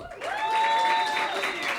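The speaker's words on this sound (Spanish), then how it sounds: "Un aplauso por favor para Lalo." A studio audience in Bogotá applauds guest Lalo, a brief steady wash of clapping at close range that swells and holds, with a faint tonal ring running through it.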